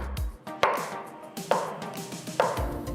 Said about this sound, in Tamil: நெக்ஸ்ட் பீர்க்கங்காயை சின்ன சின்ன பீசஸாக கட் பண்ணிக்கலாம்.